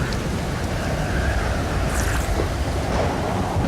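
Crashing ocean surf in the survival game Stranded Deep, a steady broadband wash of waves with wind noise running continuously and fairly loud, no voices present.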